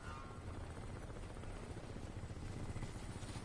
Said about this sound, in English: I don't see how I'm gonna escape the terror of the fucking helicopter.